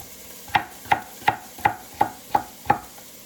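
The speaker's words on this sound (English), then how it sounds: "I'm going to take my celery, I'm going to cut it in half, and then just cut it into little sticks" A knife chops celery into sticks on a cutting board, seven evenly spaced crisp knocks about a third of a second apart, close and clear with no talking.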